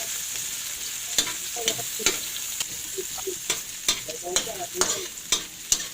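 Garlic, onion and ginger sauté together in a pan, a soft continuous sizzle broken by repeated clinks and scrapes of a utensil stirring at an uneven pace, close and fairly quiet.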